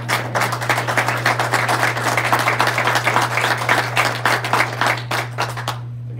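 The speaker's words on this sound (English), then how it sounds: "I guess it was the round of applause." Audience at a community meeting gives a sustained round of applause, many hands clapping steadily over a constant low electrical hum before the clapping cuts off at the end.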